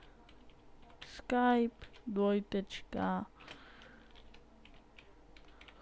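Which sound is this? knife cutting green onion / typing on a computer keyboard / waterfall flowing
typing on a computer keyboard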